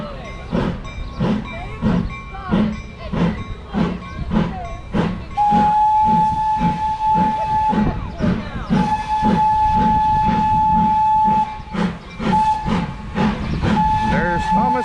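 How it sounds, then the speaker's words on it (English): Thomas the Tank Engine steam locomotive pulls into the station at Strasburg, Pennsylvania, its steady chuffing beats close and loud, with a long steam whistle sounding in several blasts partway through over a hiss of steam. "So here comes Thomas now. Thomas will be pulling in. There he comes, a huffing and a puffing."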